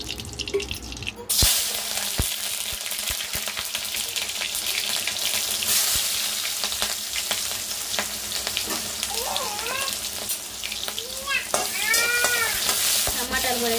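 Tomatoes frying in hot oil in a pan, a loud continuous sizzle from start to finish with sharp utensil taps and faint bird-like chirps or squeaks in the background.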